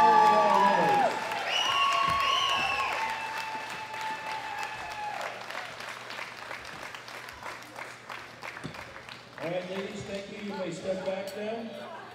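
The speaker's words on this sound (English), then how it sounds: "Big round of applause for all of our winners" Audience applause for the women's open 63 kg winners at a world classic powerlifting championship, a broad wash of clapping under an announcer's amplified voice, fading slightly before swelling again near the end.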